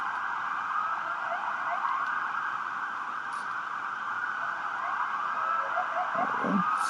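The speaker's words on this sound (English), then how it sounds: "So what you're hearing is emergency services are doing a parade outside" Emergency vehicle sirens from a parade outside wail continuously at a distance, a steady layered drone of several sirens heard from indoors.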